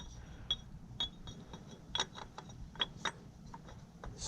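A 1/4 drive swivel head ratchet turns a 10 mm nut on a Toyota Highlander thermostat housing, giving faint, quick clicking bursts with small metallic ticks at irregular intervals, close by and quiet.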